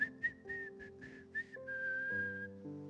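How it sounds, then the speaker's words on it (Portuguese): A person whistles a short tune alone, a run of brief chirpy notes giving way to one long sustained tone over a soft musical backing, with no talking. "Só falta assobiar, né?"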